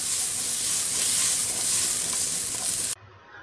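Rice frying in a pan with bird's eye chili and green peas being stirred, a loud continuous sizzle with scraping stir strokes that cuts off abruptly near the end, leaving a faint hiss.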